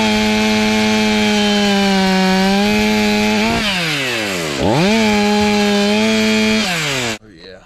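A Stihl 500i chainsaw running while clearing land and making an unusual sound: a loud, close, buzzing engine roar that holds steady, dips and revs back up in sweeping pitch changes, then cuts off abruptly.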